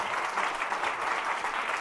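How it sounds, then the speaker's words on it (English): An audience at a lunchtime opera picnic show applauds warmly, a dense, even wash of clapping heard alone at moderate distance. "Give yourselves a round of applause."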